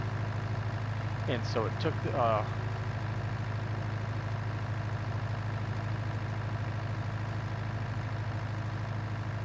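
Mowing machine engine in Farming Simulator 19, a steady low droning hum running continuously at moderate level beneath a voice talking briefly early on.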